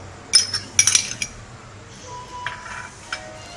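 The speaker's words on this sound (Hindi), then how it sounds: "अब इसमें हम अदरक लहसुन का पेस्ट डाल रहे हैं।" A metal spoon clinks a few times against a pot while ginger-garlic paste goes into keema for kachri keema, with sharp close taps early on and fainter scrapes and clicks afterwards.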